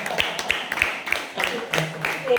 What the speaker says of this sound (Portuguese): vamos bater palma para o pastor, vamos salvar de palmas